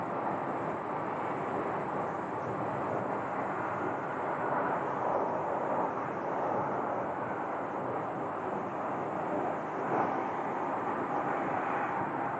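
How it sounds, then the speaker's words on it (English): A Southwest airliner lands at Sky Harbor as a steady, broad jet roar that holds at an even level with a slight wind-like rush and no talking. "here comes Southwest landing"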